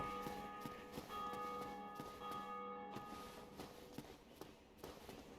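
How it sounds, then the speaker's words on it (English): A bell tolls in the Dark Souls Remastered video game, heard faintly and at a distance: a sustained ringing tone that lingers under a low, busy background for several seconds. "we hath rung bell."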